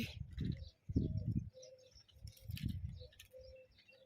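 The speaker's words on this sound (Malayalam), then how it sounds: "കുറേ കിളികളുടെ വോയിസ് അല്ലാണ്ട് വേറൊന്നുമില്ല കേട്ടോ ഇവിടുത്തെ" Many birds calling at Al Ain Zoo in the UAE, with soft repeated pigeon-like coos and scattered chirps at moderate distance over quiet outdoor background.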